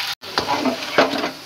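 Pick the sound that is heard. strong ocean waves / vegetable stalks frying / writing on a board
vegetable stalks frying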